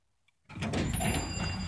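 A Dover hydraulic elevator arrives and its doors slide open, a sudden steady mechanical rumble and whir starting after half a second of near silence and continuing close by.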